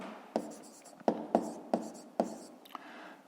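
Pen or chalk writing by hand during a fifth-grade math lesson, heard as a few faint, close scratchy strokes with soft taps between them, under a quiet room hiss.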